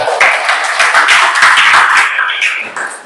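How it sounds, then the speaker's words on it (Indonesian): Audience bursts into dense, close applause, many hands clapping together at full volume for a few seconds before thinning slightly at the end. "tepuk tangan untuk kita semua"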